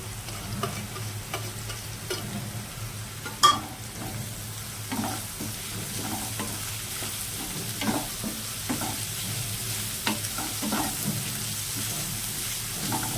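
Chopped onion sizzling and frying in hot oil in a pan for a tuver thotha dish, a steady close crackle with occasional stirring scrapes throughout.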